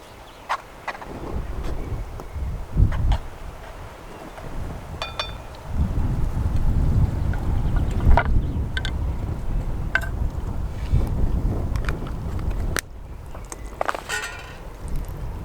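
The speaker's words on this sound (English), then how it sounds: "the wind comes and goes" Outdoors during cooking, gusts of wind rumble low and loud against the microphone, rising and easing in waves, with thin clicks and clinks of cookware scattered through and no speech.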